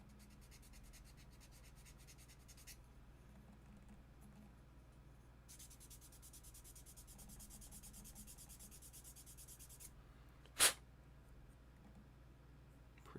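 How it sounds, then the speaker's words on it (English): Continuous fine sanding strokes with 400-grit sandpaper rubbing back and forth across a surface, soft and close, with a brief sharp knock near the end. "So I'm just going to give this a nice quick sanding."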